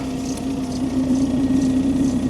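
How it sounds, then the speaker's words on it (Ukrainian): A steady low hum with a constant drone from a Webasto diesel parking heater running under a car hood, continuous and fairly loud. "Вже шелестить вибасто. Чути її під капотом."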